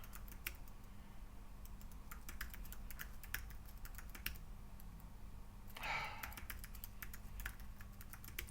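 A password is tapped out on a computer keyboard, quick irregular key clicks in short bursts over a quiet background with a faint breath-like rustle partway through.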